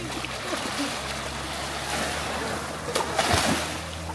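Ocean waves wash and splash around a small boat off Davao Oriental, a steady rushing sea noise with a louder surge near the end, while people talk faintly in the background.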